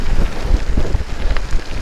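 Strong wind buffeting the microphone while riding a gravel bike on rough gravel, a loud low rumbling roar with gusty fluctuations, no voices.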